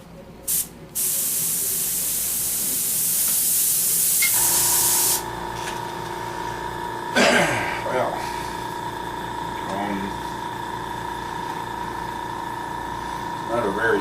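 A beginner's airbrush sprays paint in a loud, steady hiss, a short burst and then a longer continuous spray lasting several seconds, before fading to quieter background tones with faint sounds of handling.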